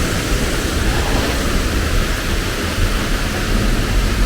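Edessa waterfall pours in a continuous, loud roar of rushing water, a thick, unbroken wash of noise that stays even from start to finish with no voices.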